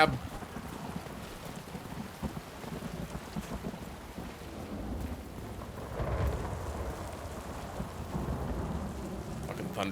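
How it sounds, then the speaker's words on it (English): Rolling thunder with steady rain in the video game No Rest for the Wicked, a continuous low rumble swelling toward the end over a constant wash of rainfall, with no voices. "Fucking thunder sounds real."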